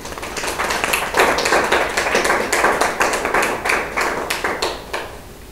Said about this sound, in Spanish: vamos a pedir un fuerte aplauso para él